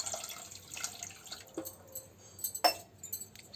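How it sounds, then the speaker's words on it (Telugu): Water poured from a glass into a pot of Hyderabadi mutton bones marag, giving a soft, fairly faint splash and trickle with a sharper clink of the glass against the rim near the end. "నేను ఇందులోకి 2 గ్లాసెస్ వాటర్ యాడ్ చేస్తున్నాను."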